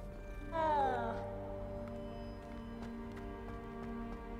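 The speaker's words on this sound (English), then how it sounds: "Not pet a cat in the faculty area." A cat in the Hogwarts Legacy video game gives one short, fairly loud meow-like cry while being petted, with steady game music and ambience continuing underneath.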